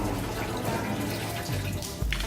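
Water poured into the sea during a Thai ash-scattering ceremony, heard as continuous splashing and trickling with a brief heavier splash near the end, no voices.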